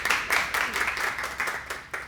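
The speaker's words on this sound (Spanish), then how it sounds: "un aplauso para ella" A church congregation claps for a woman at the front, a loud, close burst of many hands. The clapping is steady, with a few stronger beats, and lasts about two seconds.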